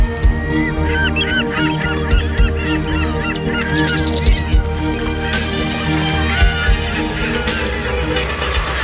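A huge flock of water birds at an East African lake calls continuously, a dense chorus of honking, goose-like cries layered over one another, loud and close with constant overlapping voices and no talk.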